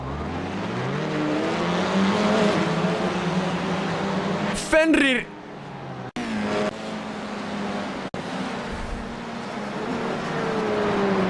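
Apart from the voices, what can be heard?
race car in trouble after a tyre broke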